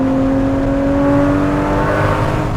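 Porsche GT4 or Corvette Z06 sports car engine on a track, loud and close, a steady high-revving drone with strong tonal harmonics that climbs slightly in pitch, continuous throughout with no talk.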